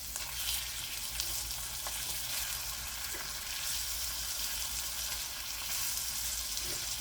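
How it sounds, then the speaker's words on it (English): A steak sears in a pan with butter and olive oil, giving a continuous, even hiss of sizzling fat with occasional small pops. The sound is close but fairly quiet, with no talking. "Throw in a knob of butter and a splash of olive oil. Put in your steak. You want to give it a nice brown crust or sear."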